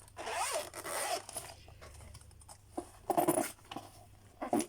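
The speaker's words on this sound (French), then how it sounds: "Je vais ouvrir le classeur." Zipper pulled open on a zippered budget binder, a few short rasping zip strokes with quiet handling in between, close and fairly soft.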